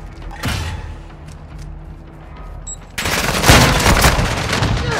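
Gunfire from Call of Duty: Modern Warfare II: a quieter stretch of scattered shots and clatter, then from about three seconds a loud, dense burst of automatic fire that keeps rolling to the end.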